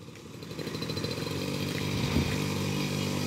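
A two-wheeler's engine hums and then builds steadily in pitch and loudness as the throttle opens, up close, while a beginner rider gets underway during a riding lesson in Madurai.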